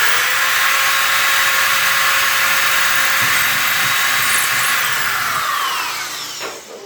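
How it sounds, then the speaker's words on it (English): A power drill runs steadily and loudly as it bores through a wooden kitchen cabinet door to make a hole for a knob, then winds down at the end, with no talk. "Go on and drill through."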